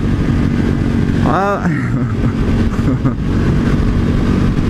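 A 2018 KTM 1290 Super Duke engine roars loud and close, then briefly hits the rev limiter with a stuttering bounce before the revs drop and the steady engine drone carries on.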